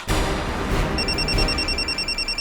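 A phone rings loudly and close with an incoming call, a steady electronic ringtone that pulses in a quick, repeating pattern through the whole short stretch.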